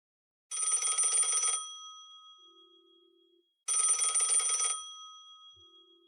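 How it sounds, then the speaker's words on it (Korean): A telephone bell rings twice in a quiet second-floor living room, each loud burst lasting about a second, with a faint lingering tone between rings and no talking. "정적을 깨고 2층 거실에 전화벨이 울렸다."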